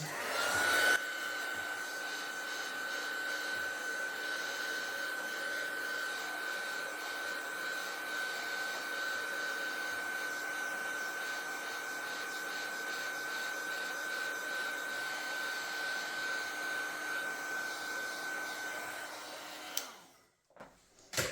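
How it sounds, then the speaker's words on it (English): A heat gun blows hot air over a handmade mixed media card, a steady close whooshing drone with a thin high whine that holds evenly for about twenty seconds before cutting off with a brief rattle. "I'm going to give it a blast of the heat gun"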